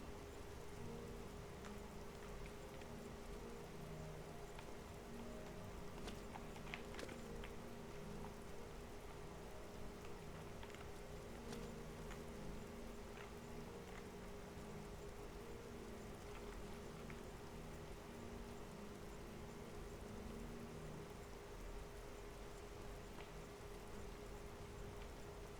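Steady, even rainfall in the fantasy game Oblivion, a dense hiss that stays constant throughout with no voices.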